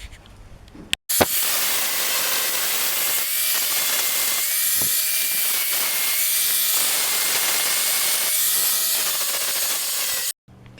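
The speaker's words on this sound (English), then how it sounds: "I'm going to do the rough carving with an angle grinder" An angle grinder rough-carves a wooden olive rockfish, a loud, steady abrasive whine with hissing grit running almost continuously for about nine seconds, broken by a sharp start and a brief cutoff near the end.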